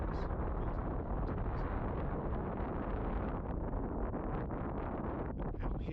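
Wind gusting across open desert plains buffets the microphone in a steady, loud broadband roar for the whole stretch, with no talk.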